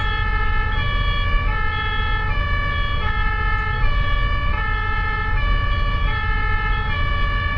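A loud German ambulance siren sounds its two-tone hi-lo pattern, switching evenly between pitches about every three quarters of a second over a low traffic rumble.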